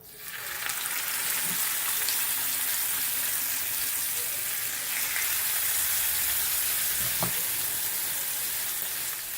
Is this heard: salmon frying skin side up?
yes